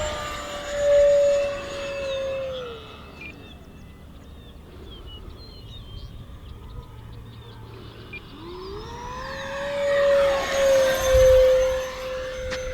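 A remote-control EDF jet makes two loud passes, its ducted-fan whine rising and then falling as it sweeps by at the start and again near the end, with a quieter distant hum in between.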